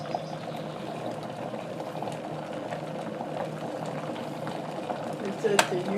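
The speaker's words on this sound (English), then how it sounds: "so you can hear it boiling" Water boiling in a stainless steel Hamilton Beach kettle, a continuous bubbling rumble with a brief sharp click near the end.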